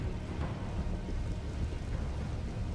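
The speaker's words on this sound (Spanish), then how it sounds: "Ahora empieza a llover." In the video game Elden Ring, a storm sets in: steady rain hisses across the ground while a low rolling rumble of thunder swells underneath, fairly soft and continuous throughout.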